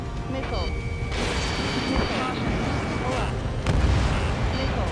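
Heavy artillery fire and explosions in the Ace Combat 7 combat flight game, a loud, continuous barrage of booming blasts and crashes that rumbles without pause across the whole stretch.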